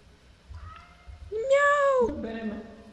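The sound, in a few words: cat meowing in a video game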